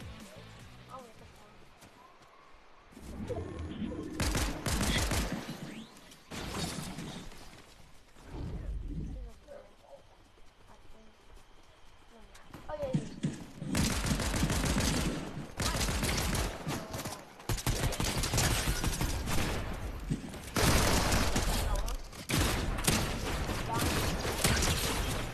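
Rapid bursts of video game gunfire come in dense volleys, loud and close, broken by quieter gaps, while players talk over the shooting.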